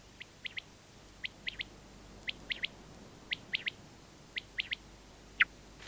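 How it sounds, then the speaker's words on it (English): A thrush sings at dusk in a hedgerow setting, with short high chirping notes in quick pairs and triplets over a quiet background hush. "As the thrush settles down for the night,"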